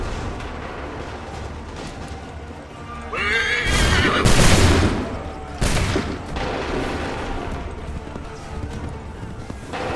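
Musket volleys crack out in an Assassin's Creed III battle, a dense burst near the middle followed by a second blast, booming over a busy rumble of combat noise.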